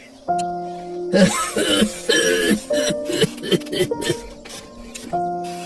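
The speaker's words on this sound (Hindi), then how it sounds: "आपको बहुत खांसी भी आ रही है।" Several harsh, close coughs in quick succession, broken by throat-clearing rasps, with a steady tonal hum running beneath.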